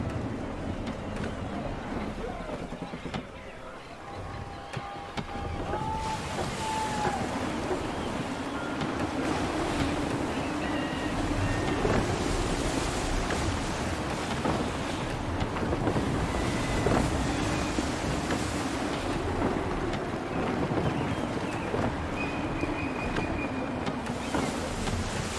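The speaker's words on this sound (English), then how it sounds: "Gusty winds can be difficult to manage." Gusty wind at sea in Assassin's Creed 3, a steady broadband roar of wind and surf around a sailing ship, rising and falling in strength throughout with faint tonal game sounds over it.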